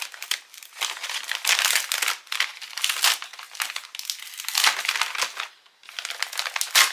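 A surprise gift from an advent calendar being unwrapped, its wrapping paper crinkling and rustling in loud, close bursts with one brief pause near the end, no talking.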